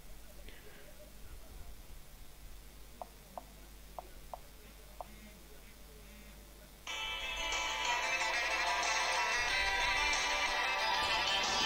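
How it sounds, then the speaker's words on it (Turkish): Mobile phone ringtone in a room while The Sims plays: a few faint ticks first, then a loud, steady electronic ring takes over for the last several seconds. "Telefon çalıyor."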